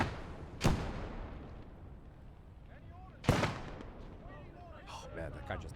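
Grenade blasts in the World War II game Gates of Hell: Ostfront, two sharp booming bursts about three seconds apart over a steady battlefield rumble, with faint voices in the background.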